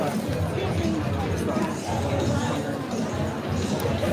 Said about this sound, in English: Check out this crowd